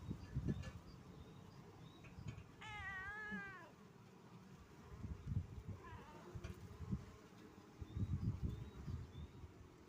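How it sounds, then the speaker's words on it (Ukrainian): Bees buzzing around an open beehive during honey harvesting, a faint continuous drone under rustling and handling noise, with a cat meowing once midway. "дивись, щоб тебе пчолка не вкусила"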